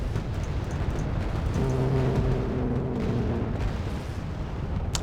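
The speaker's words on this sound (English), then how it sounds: "Cannons are firing right out the gate." Cannons fire in Wargame: Red Dragon, heard as dense, continuous booming and rumbling that sits loud and heavy throughout the battle, with overlapping blasts blending together.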